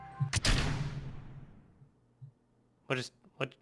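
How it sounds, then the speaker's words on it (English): A sharp, loud crash in the Kerbal Space Program space-flight game bursts out and then decays slowly into a long fading rumble, followed after a quiet gap by a voice speaking briefly. "Sounded like an explosion just happened."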